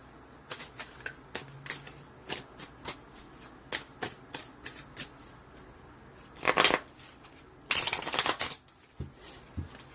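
Tarot cards are shuffled close by in a quiet room: a run of crisp, quick riffles and flicks, then two louder, longer bursts of cards cascading together. No one speaks.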